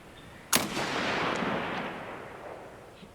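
A single sharp gunshot sound effect fired during a tabletop game, with a sudden crack followed by a long, fading rumbling tail, close and alone.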